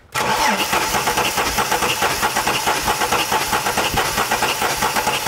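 A Ford AU Falcon engine cranks over steadily on the starter during a compression test, a loud continuous whirring churn with a rapid rhythmic pulse that runs without a break.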